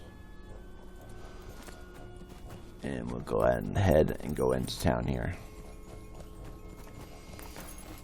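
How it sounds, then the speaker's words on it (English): Horse hooves clip-clop steadily in a video game as the rider heads into town, a faint, even rhythm running beneath someone talking. "Hop back on our horse."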